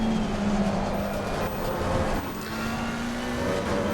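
A GT3 race car engine in a racing simulator game drones steadily at high revs, with a faint gear change midway and no talk over it.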